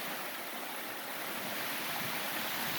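Steady rushing water of a river stream at a trail crossing on the Black Forest Trail in Pennsylvania, a continuous broadband wash with no voices.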